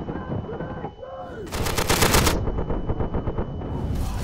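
Submachine gun fire in the World War II shooter Day of Infamy, on a Dunkirk invasion map: a loud, rapid burst of automatic shots up close, with more fire and battle noise around it.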